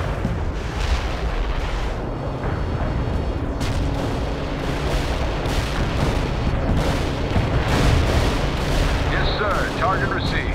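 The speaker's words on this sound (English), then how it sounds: "Artillery fire" Artillery barrages in the real-time strategy game World in Conflict: Soviet Assault roar continuously as loud, overlapping booms and blasts rumble on, with distant gunfire crackling under radio-style voices.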